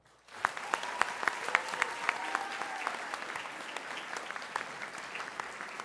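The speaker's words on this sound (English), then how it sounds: "Let's have a huge round of applause for all of you." Students recognized at a board of education meeting receive a round of applause from the audience, the clapping starting abruptly after a brief quiet, with scattered sharp claps over a steady patter throughout.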